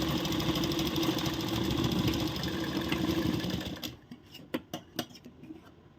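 A sewing machine stitching the centre of a one-inch blouse dart runs steadily for about four seconds, then stops, followed by a few sharp clicks and taps close by.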